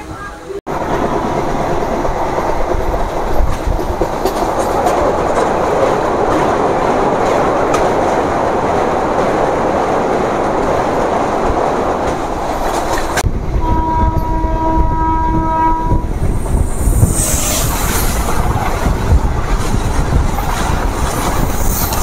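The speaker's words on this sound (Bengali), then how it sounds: "মালদা টাউন থেকে 29 কিলোমিটার পথ পাড়ি দিয়ে আমাদের ট্রেন এখন চামাগ্রাম" A MEMU passenger train runs loudly past Malda Town, its steady rolling rumble continuous throughout, with a sustained horn blast sounding in the last third.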